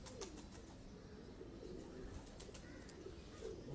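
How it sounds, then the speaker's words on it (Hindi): Red Bull breed pigeons heard faintly against a steady background hiss, with soft scattered coos and the occasional light flutter of wings. "ये जी मलिक साहब के रेड बुल कबूतर है"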